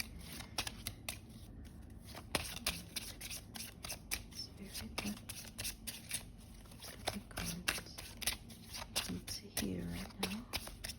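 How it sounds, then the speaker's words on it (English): Tarot cards are shuffled close up in quick, papery flicks and riffles that come in irregular bursts, quiet and intimate, with soft handling noises between them. "it's a little bit hard to shuffle these cards"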